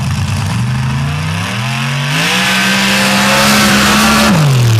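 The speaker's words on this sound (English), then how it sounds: "Chris Bonnicker rolls out now in the Chevrolet out of Missouri Havoc" A Chevrolet drag race car at a nitrous shootout in Sanford launches hard, its loud engine note climbing through stepped rises in pitch before easing off, close and continuous with no talking.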